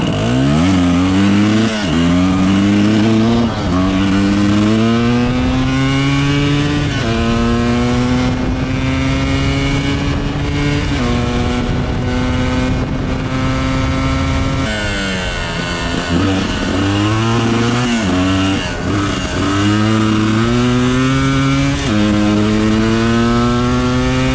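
A Kawasaki KDX 250 two-stroke dirt bike, still fairly cold and running slightly rich in the mid-range, idles loudly and close, with repeated throttle blips rising and falling in pitch throughout.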